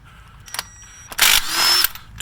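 A power tool spins out 17mm bolts on a 2003-or-later SAAB 9-3 strut, with short whirring bursts and a longer loud rattling run near the end, set against quiet mechanical clicks.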